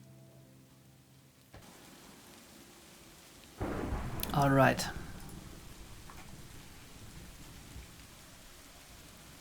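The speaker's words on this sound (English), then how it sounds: "a thunderstorm's going on" A thunderstorm with steady rain hissing throughout, a sudden louder burst partway through as a voice speaks over it, then the rainfall continues evenly.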